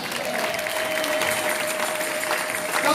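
A church congregation claps together in acclaim of the Lord, a dense, steady applause close by with a crowd murmur beneath and a faint sustained tone running through it.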